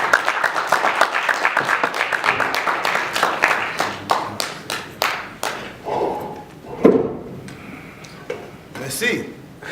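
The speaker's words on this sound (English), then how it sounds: "So just a round of applause for my brother." Audience applause for a keynote speaker at a Pan African Conference, a dense steady patter of many hands clapping for several seconds, thinning out into scattered claps and room noise toward the end.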